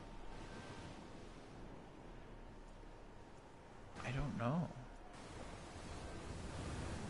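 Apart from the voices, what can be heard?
waves on a beach from a video game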